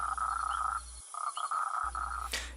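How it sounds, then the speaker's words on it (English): Smoky jungle frog calling at a lodge water tower in the Amazon at night: a steady run of repeated croaking notes, close and fairly loud, with a brief pause midway before the calls resume. "there's a smoky jungle frog right at the lodge, at the water tower"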